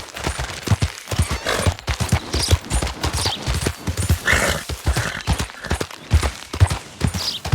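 Horse hooves clip-clop at a steady, busy trot in Red Dead Redemption 2, the rhythmic thuds running continuously and close throughout with no talking.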